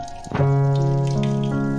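Water being drained from cooked kaali flower chillies through a cloth into a pot, a short pouring and trickling sound with a ringing tonal resonance from the vessel.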